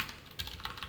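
Quick, close typing on a computer keyboard during SCSS coding work, with a steady patter of key clicks and no speech.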